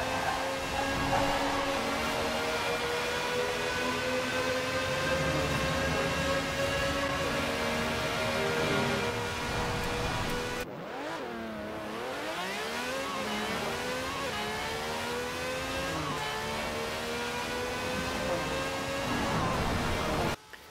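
Fast car accelerating hard in the racing game Forza Horizon 4: a loud, steady engine whine climbs in pitch, drops sharply at a gear shift, then climbs again, alone and continuous.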